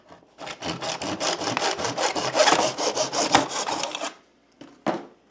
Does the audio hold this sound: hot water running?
no